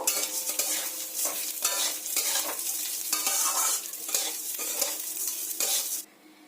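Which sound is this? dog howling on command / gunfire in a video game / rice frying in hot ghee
rice frying in hot ghee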